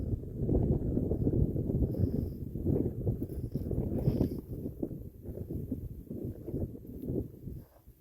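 Wind blows steadily across a burnt-out mountain trail on the Pacific Crest Trail, a low, rumbling buffeting on the microphone that rises and falls in gusts for several seconds. Faint footsteps may lie under it, and nobody talks.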